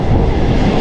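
A passenger train rolls into a station on the Mahishadal to Howrah line with a loud, close, continuous rumble of wheels and carriages, heard alone.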